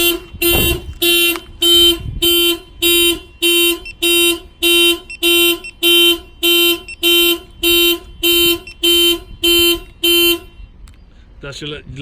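A Clifford 3305X car alarm sounds after a door is opened, giving a loud run of about seventeen evenly spaced electronic tones. The tones stop abruptly, leaving faint background noise.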